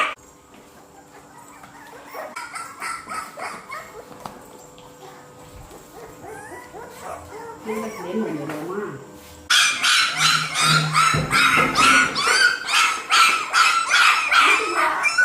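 A young puppy whimpers, yips and barks in repeated bursts that grow louder and busier toward the end, mixed with a person talking nearby.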